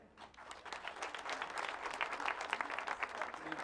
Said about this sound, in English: Let's give a round of applause to Mama.